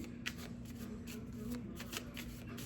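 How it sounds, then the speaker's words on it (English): An oracle deck is shuffled steadily close to the microphone, with soft repeated riffling taps and flicks over a faint constant hum, as a card is drawn from the pack. "Let's pull one more card."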